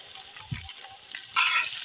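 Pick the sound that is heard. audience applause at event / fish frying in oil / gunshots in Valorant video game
fish frying in oil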